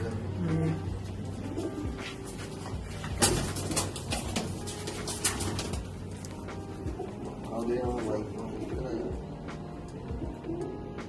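Pigeons, old laddu-type birds kept at a Punjabi loft, coo softly at intervals under nearby men's conversation and some rustling.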